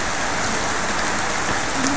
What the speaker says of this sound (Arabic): اسمعوا الأمطار